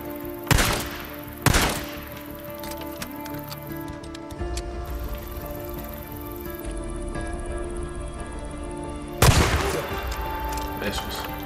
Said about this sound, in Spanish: Si te estoy dando con todos los disparos